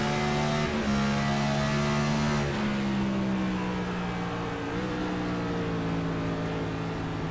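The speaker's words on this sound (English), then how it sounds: "You hear the downshift." A race car engine downshifts on the oval at Richmond during an ICON Cup Series race, its steady loud drone dropping in pitch as the gear changes, with no voices over it.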